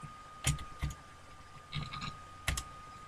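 A few separate bursts of keystrokes on a computer keyboard while a command is entered in AutoCAD, with short pauses between the bursts, close and fairly quiet and with no voice.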